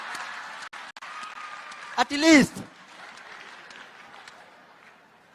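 Audience at a Jamhuri Day tech summit breaking into a short burst of applause and cheering midway, following someone speaking, with crowd murmur before and after.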